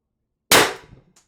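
A single sharp shot from an Umarex TR68 airgun firing .684 shaped ammo, a loud close crack with a short decaying tail, alone after silence.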